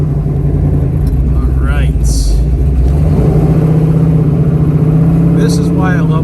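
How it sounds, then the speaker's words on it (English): A 1970 Dodge Challenger with a date-code-correct Hemi 426 engine rumbles steadily up close on a test drive, a low continuous engine drone with slight rises, while someone speaks briefly over it. "Test driving a 70 Challenger Hemi 426."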